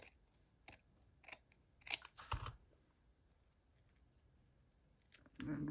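Scissors snip through fabric bits for a collage on watercolor paper, several short separate cuts spaced apart, close and quiet, with a soft rustle of material near the end.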